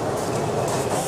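A train rolls steadily along the rails with a continuous rumbling clickety-clack, close and loud, no voices over it.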